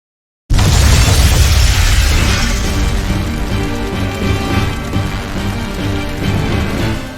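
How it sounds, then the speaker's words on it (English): After a moment of silence, stores of flamestone, sulfur and oil in the fantasy video game Tales of Berseria detonate in one sudden, loud blast. A long crackling, rumbling roar with scattered debris follows. "Tools of flamestone, sulfur, and oil. Those will explode."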